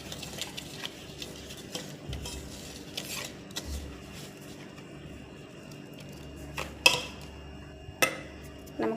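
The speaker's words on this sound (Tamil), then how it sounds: "1/2 கப் சுகரை ஆட் பண்ணி நல்லா கிண்டிக்கிட்டு" Sugar being stirred into butter for butter cookie dough, a soft scraping and clinking of a utensil against a bowl with a few sharper taps near the end, quiet and close, no talking.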